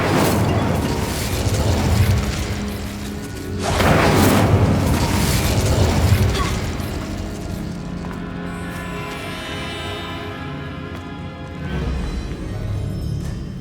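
The Incendio fire spell in the video game Hogwarts Legacy bursts out with a loud booming whoosh of flame. It fades, then a second fiery surge follows, with crackling and mechanical effects between them.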